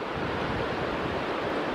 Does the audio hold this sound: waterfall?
yes